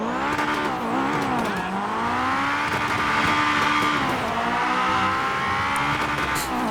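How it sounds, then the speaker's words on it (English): A loud, tuned Acura RSX Type-S exhaust in GTA 5 drones and rises with throttle, its engine note shifting up and down through gears, with faint tire noise. "properly tuned Hondas have just amazing exhaust notes"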